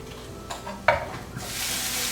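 Onions sizzle in a pan while being stirred, a few soft utensil scrapes and taps giving way to a rising, steady frying hiss toward the end.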